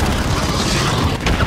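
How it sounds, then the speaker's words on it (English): A friendly cruise missile strikes in Call of Duty Modern Warfare 3, a loud, dense boom with rumbling blast noise filling the whole short moment. "Friendly cruise missile approaching target."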